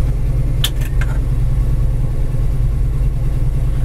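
A 1971 Ford Mustang Mach 1 with a 351 engine and four-speed idles steadily, a loud continuous low rumble close by, with a few brief sharp clicks early on and no talking.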